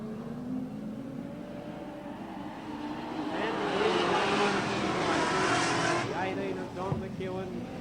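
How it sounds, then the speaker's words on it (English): Super sedan racing car engines roar and swell as cars pass on a circuit at Newcastle in 1992, the noise rising to a loud peak and then easing off, with a commentator's voice over it. "We'll still have 2 laps to go with car 6, John Brown to the rear."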